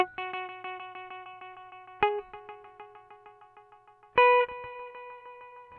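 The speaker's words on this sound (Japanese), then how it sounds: "このインテンシティはエコーの繰り返し音ですね。" A BOSS RE-2 Space Echo compact pedal sounds a clean guitar note or chord that repeats in a steady train of echoes. Each fresh strum brings another decaying run of repeats, heard alone with no talking.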